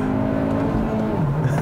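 A 2022 Hyundai Elantra N-Line accelerates hard while its inside tire spins. The engine holds a steady, loud, close drone that dips in pitch near the end, with no talk over it.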